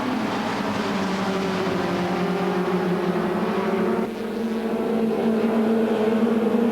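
Touring cars, including a BMW 320i, race downhill through La Combe at the 1995 Spa 24 Hours, a loud sustained engine drone that shifts pitch as cars pass, with a brief dip midway.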